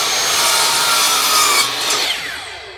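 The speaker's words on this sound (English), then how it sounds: "So I'll just cut the edge and watch how clean it is." A hand saw cuts through the ArtResin-coated edge of a zebra wood piece in a continuous rasping stroke, close and loud, fading as the cut finishes.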